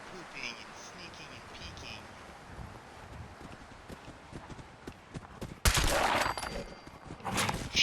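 Gunfire in the Fallout 4 video game: scattered sharp shots, then a loud burst of rapid fire near the end over a low ambient bed, with a voice talking faintly.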